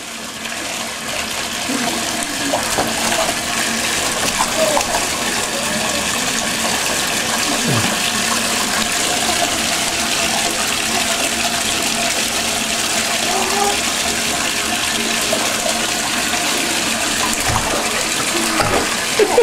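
A dog stands in a bathtub while water splashes and runs steadily throughout, a continuous wash of sound with brief louder sloshes.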